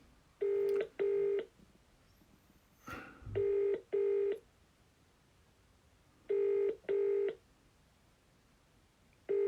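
A telephone rings in paired double bursts, three sets spaced a few seconds apart, clear and fairly close, with a short knock between the first two sets and another ring starting at the end.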